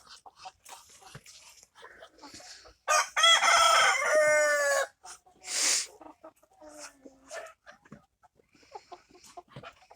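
Hill roosters: a loud, close crow rises and falls over about two seconds, surrounded by scattered softer clucks and calls in a quiet yard, with a voice briefly heard.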